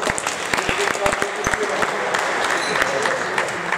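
Applause from a group at a basketball coaching clinic, a dense, close spread of clapping with some sharp individual claps standing out, running steadily throughout with faint voices mixed in.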